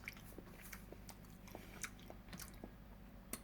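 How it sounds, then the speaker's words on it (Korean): Someone eating cup ramen with two eggs added, chewing and biting up close with soft wet squishes and occasional light crunches in an irregular rhythm, quiet with no talking. "한번 먹어볼게요"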